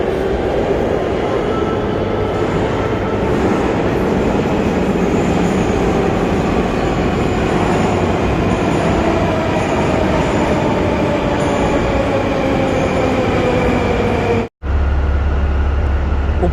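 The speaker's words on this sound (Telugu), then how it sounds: "ఇదిగోండి, ఈ ట్రైన్ వెళ్తుంది ఇప్పుడు ఎయిర్పోర్ట్కి." An airport train at a Moscow station runs steadily and loudly close by with rumbling wheels and a rising whine, broken by a short cut near the end.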